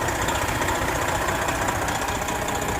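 A 1999 Volvo VNL truck idles with its AC compressor running, a dense, steady engine rumble with a constant mechanical whir, loud and close, with no voices.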